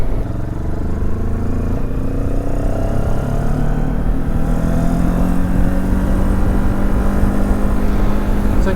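A Benelli TRK702X motorcycle climbs uphill out of Edale, its engine a loud, steady drone from the rider's position with a rising pitch as it pulls, mixed with constant wind rush and no talk.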